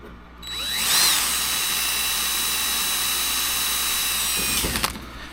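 A close, high-pitched drill whirs continuously for several seconds as it bores into the metal wing spar of a Zenith 750 Cruzer kit aircraft, then spins down and stops.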